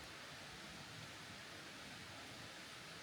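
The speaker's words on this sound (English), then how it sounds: "the sound of the river there" A river flows steadily outside a house, a constant broadband rush of water with no breaks, fairly soft and distant, with no voices over it.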